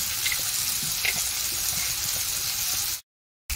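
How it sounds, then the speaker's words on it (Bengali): Onions fry in a wok with a steady, hissing sizzle, close and even for about three seconds before cutting to a short silence. "পেঁয়াজগুলোকে একটু লাল লাল করে ভেজে নেবো"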